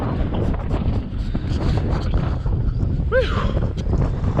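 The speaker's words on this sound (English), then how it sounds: "great view, but very intense wind right now." Strong, steady wind buffets the microphone on an exposed hill among black basalt lava fields at Craters of the Moon, a constant loud roar, and one person briefly exhales near the end.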